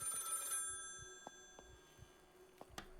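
An old telephone rings repeatedly in the Maid of Sker horror video game, its bright bell tones sounding in short bursts over a quiet, dim background.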